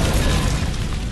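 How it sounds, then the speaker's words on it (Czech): A huge bomb explodes on a street in Bali, a loud, dense roaring blast that fills the moment with broad rumbling noise. "Se ulicí rozlehne druhá obrovská exploze."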